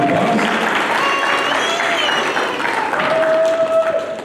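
A crowd at a live wrestling show applauds in a steady wash, with a sustained electronic tone and what may be voices mixed in throughout.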